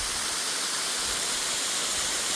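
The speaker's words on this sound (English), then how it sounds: "This one's Mr. Rogers Waterfall in Indiana County." Mr. Rogers Waterfall in Indiana County, Pennsylvania, pours with a steady, dense broadband hiss of falling water, constant and close, with no voices.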